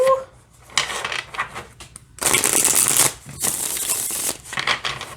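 Tarot cards are riffled and shuffled in several quick bursts, close by, with a brief voice near the start.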